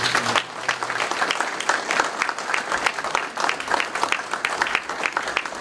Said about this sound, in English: I would like to have another round of applause for the panelists